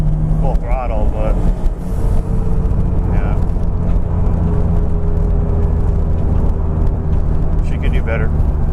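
A turbocharged 1999 BMW Z3 M Coupe engine runs at full throttle with a steady, loud drone and some whir, while someone talks over it.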